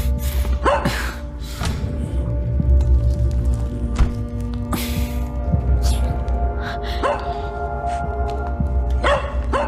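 A young dog yips and barks in short, sharp bursts, several times, close by, with scuffling and a low hum behind.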